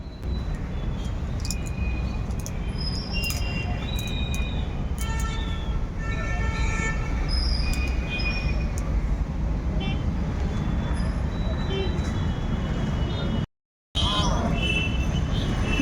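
On a muddy street in rainy weather, a train passes with a steady rumble alongside road traffic noise, while a series of short, shrill whistle toots sounds in the middle and then fades back into the constant train and traffic din.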